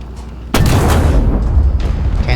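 Gunfire in War Thunder, a tank battle game with a Russian tank: a sharp, loud cannon blast lands after a quiet start, followed by sustained rumbling booms and battle noise, with no talk.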